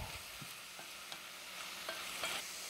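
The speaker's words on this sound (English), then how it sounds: "I'll add just a little bit more spinach because it does cook down quite a bit." Spinach wilts down in a hot pan with a steady, quiet sizzle and occasional light stirring taps, with no one speaking.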